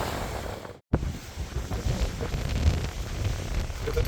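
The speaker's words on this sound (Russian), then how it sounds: "Какие волны." Rough sea waves surge and break along a windy Crimean shore at Tarkhankut, a continuous roar mixed with gusting wind buffeting the microphone and a brief dropout near the start.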